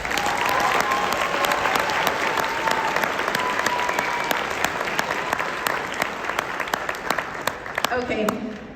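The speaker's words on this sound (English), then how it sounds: "why don't you give them a round of applause too" A large graduation crowd at Polaris High School applauds faculty and staff, with dense, loud clapping sustained for about eight seconds before it tapers off at the end.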